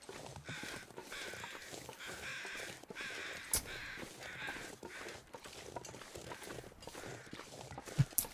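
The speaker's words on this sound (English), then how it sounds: "It's just the birds flying overhead." Birds overhead in the video game The Long Dark give a run of repeated harsh crow-like caws in an uneven rhythm, moderately near, mixed with soft crunching steps and a couple of sharp clicks.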